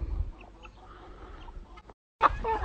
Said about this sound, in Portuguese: É galinha demais.